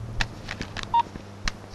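Short electronic dialing beeps from a telephone, a few separated tones in a row, moderately loud and close, heard over a quiet room background.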